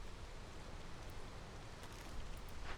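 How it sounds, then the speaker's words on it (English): Heavy rain in the video game Against the Storm: a dense, even hiss that holds steady throughout without a break, with no one speaking. "Heavy rain."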